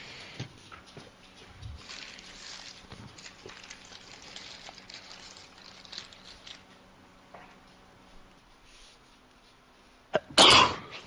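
Near the end of a tabletop Dungeons & Dragons session, a loud, close sneeze bursts out in two quick explosive pulses over quiet room background and faint table noise.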